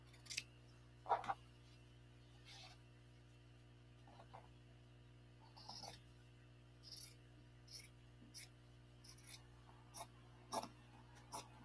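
Scissors cut out fabric for a Superman cape, scattered quiet snips and rustles over a steady low mains hum, with faint breathing close by.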